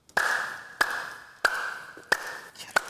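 Five sharp, evenly spaced hand claps, loud and close, each ringing briefly with a slight metallic ping, in a quiet room with no talking.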